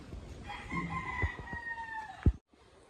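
A gamefowl rooster crows once in a backyard gamefarm, a long drawn-out call over low rustling background noise, ending with a short thump.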